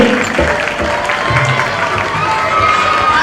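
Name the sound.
audience applause at a public function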